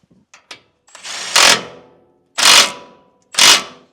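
Bursts of a power ratchet or impact tool spin a nut onto a camber bushing bolt on a 1995 Ford F150 4x4 front end: a short tap, then three loud, close whirring runs separated by pauses.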